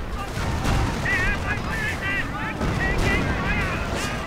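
Anti-tank guns opening fire during a Company of Heroes battle with Hellcats and a Panther, a dense barrage of booming shots and rumbling explosions, loud and continuous, mixed with whistling game effects.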